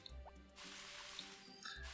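Water dripping in the video game Harvest Moon: one clear plinking drop early on, followed by a few faint bright pings and a hissy watery wash, all quiet against a steady tonal backdrop.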